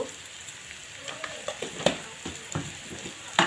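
Cumin sizzles in hot oil while taro greens are cooked with panch phoron and turmeric, a soft, steady frying hiss broken by scattered clinks and scrapes of stirring.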